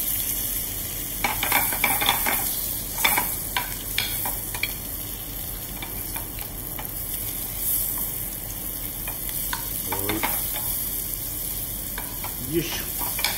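Daikon radish browning in a hot pan with yellowtail for a red-wine braise, a continuous close sizzle with repeated scraping and clacking as the pieces are pushed around, and no voice.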